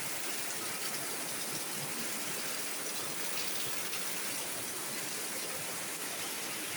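Heavy monsoon rain pours steadily in Kottarakkara, Kerala, a dense, even hiss of falling water with no pauses.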